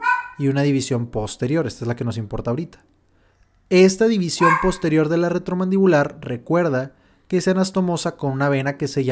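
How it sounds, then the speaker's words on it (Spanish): A small dog barks in the background while a person keeps lecturing steadily on human anatomy over it, the barks partly buried under the speech. "Disculpen los ladridos de mi perrito."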